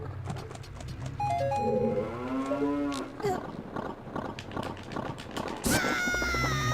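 A cow moos in the Ocarina of Time: Master Quest video game inside Jabu-Jabu's Belly, a drawn-out bellow over game music and ambience, followed by a sharp sudden hit sound near the end.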